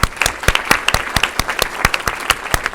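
Applause from a workshop audience, a thin crowd clapping at a brisk, fairly regular rhythm with distinct individual claps, close and lively throughout.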